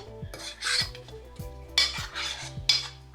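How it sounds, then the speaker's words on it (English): A spoon stirs homemade Puerto Rican sofrito in a bowl or pot, with close, wet scraping strokes and soft clinks repeating in an uneven rhythm and no one speaking. "I'm gonna mix everything together just so everything gets equally incorporated"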